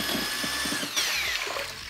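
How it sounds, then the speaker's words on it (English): A power drill whirs steadily while mixing pottery glaze in a pottery studio, its motor whine rising and falling slightly under a churning rumble. "So we use that drill."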